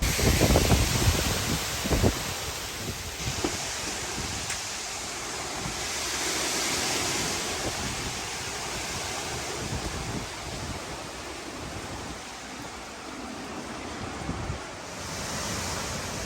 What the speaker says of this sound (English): I can hear that lake raging right now.